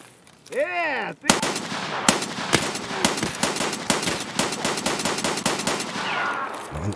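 Gunfire in the shooter game Escape From Tarkov: loud, rapid automatic bursts of sharp shots rattle close by for several seconds, preceded by a short rising whine.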